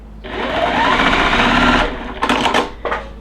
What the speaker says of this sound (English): I'm just going to finger press it and then sew this small piece to it.